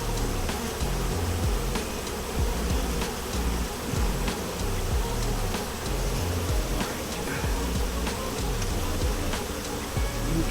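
Bees swarm and buzz around a three-story beehive as it is moved outdoors, a thick, continuous drone with small crackles and knocks mixed in.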